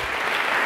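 An audience applauds for Jeff Bezos at an Internet Association event, producing a brief burst of dense, steady clapping at full volume, with no voices.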